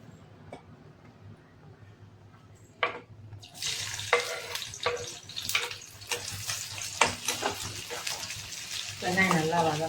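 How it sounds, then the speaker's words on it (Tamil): Onions drop into hot oil for a chicken and liver thokku. A quiet background gives way to a sudden loud, close sizzle that stays bright and crackling, with occasional stirring scrapes and splashes. "வெங்காயம் நல்லா வதங்கட்டும்."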